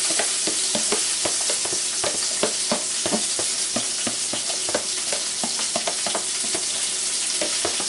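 Vegetables fry on top of meat in a pan, giving a steady, loud sizzle throughout with repeated scraping stirs at an irregular rhythm, no talking.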